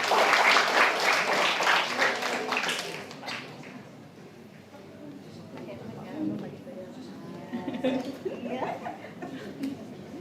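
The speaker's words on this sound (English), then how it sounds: "Please give applause to Dr. Josephine Yautan Weng." An audience claps for a certificate recipient at an international summer course ceremony, loud applause for about three seconds that then fades into murmuring voices and light chuckles.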